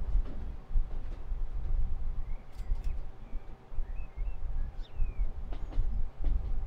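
A freight train in Transport Fever 2 rolls along the rails with a steady low rumble and faint high squeals, heard alone without talk.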